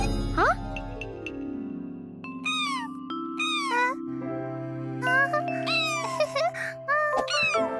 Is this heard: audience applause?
no